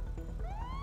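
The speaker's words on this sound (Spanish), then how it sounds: "vamos a apagar la sirena" Police car siren in GTA 5 from a Porsche Cayman patrol car, a rising electronic wail sweeping upward over steady engine and street noise, loud and close.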